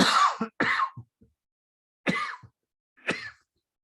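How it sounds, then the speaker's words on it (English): Several close, dry coughs and rasping throat-clearing bursts, spaced out with quiet pauses between them, from a person presenting a talk on real estate taxes. "Excuse me, one more cough."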